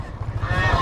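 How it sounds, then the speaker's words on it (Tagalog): A goose honks near a flooded roadside house, with short nasal calls repeating over steady low background rumble. "meron pa gansa."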